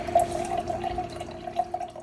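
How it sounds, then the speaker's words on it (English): Water is poured out of a container during a home rock density test, a soft, continuous trickle and splash with small gurgles, fairly quiet and steady, with no voices. "I'm going to dump the water into here to get my actual number so I can get my displacement"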